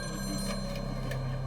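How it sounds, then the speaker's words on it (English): Telephone ringing indoors, a steady electronic ring held over a low hum, moderately faint and continuous with no voices. "the phone rang."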